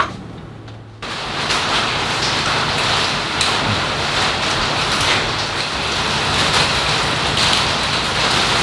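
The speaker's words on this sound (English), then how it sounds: "it's raining and you can hear the rain off the metal roof" Heavy rain drumming on a metal shop roof, a dense steady hiss and patter that swells suddenly after a quieter opening moment and then holds loud and constant.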